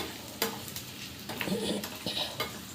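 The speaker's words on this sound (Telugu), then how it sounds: "ఇట్లా వేయించుకోవాలి." Paneer pieces frying in a pan for paneer butter masala, a soft sizzle under repeated scraping stirs and light clanks of a spatula against the pan.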